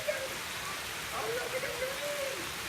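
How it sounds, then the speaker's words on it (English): Rain falls steadily outdoors as a soft, even hiss, fairly quiet, with a faint voice in the background. "We're gonna go out there in the rain."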